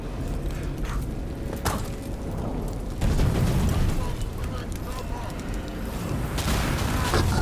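Roaring fire blast from a dragon in the video game Dragon Age: The Veilguard, a loud rumbling whoosh that surges midway and holds under background game sounds and voices.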